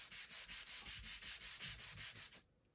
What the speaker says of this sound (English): We'll kind of sand this side.